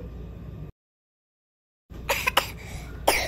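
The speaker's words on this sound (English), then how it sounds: "Is that someone coughing?" A person coughs, then after a short silence several sharp coughs follow in quick succession, close and fairly loud.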